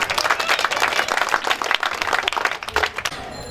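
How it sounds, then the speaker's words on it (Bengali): Applause at a school and college hostel party, a dense burst of many hands clapping for about three seconds before fading out near the end. "তার জন্য প্লিজ জোরে একটা করো করতালি"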